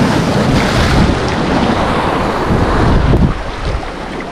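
Sea waves and surf roar heard from a fishing boat off Mindoro, a dense continuous wash of water with wind buffeting the microphone, loud and close, dropping a little near the end, with no talk.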